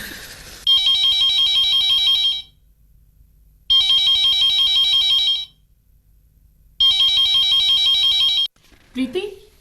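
A telephone in an office-call scene sounds three long electronic ringtone bursts, evenly spaced with quiet gaps between them, followed by a brief rustle at the end.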